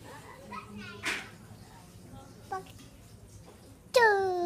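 A cat gives a loud, close meow at the end, after quieter murmuring voices and small scattered noises.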